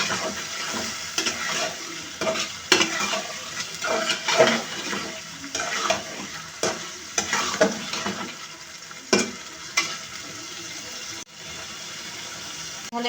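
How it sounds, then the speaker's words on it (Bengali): Shrimp fry with tomato in a pan while being stirred, producing a low sizzle punctuated by repeated scraping strokes of a spatula in an irregular rhythm, with quieter sizzling at the end. "এবার এখানে ধুয়ে রাখা চিংড়ি মাছগুলো দিয়ে দিব। চিংড়ি মাছটা দিয়ে আরেকটু নাড়াচাড়া করবো সুন্দর করে।"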